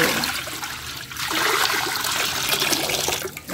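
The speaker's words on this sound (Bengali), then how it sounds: "এই যে দিয়ে দিচ্ছি পানি।" Water pours into a large wok on the stove, a close, continuous splashing gush that dips briefly near the start and then flows on steadily until it tapers off.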